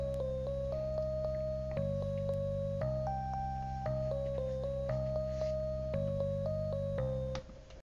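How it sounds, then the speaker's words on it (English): Synthetic tone-like keyboard sound playing the "Mary Had a Little Lamb" melody recast in C Phrygian mode, single notes stepping over sustained low chords, clean and alone, ending abruptly. "Here's the sound of it in C Phrygian."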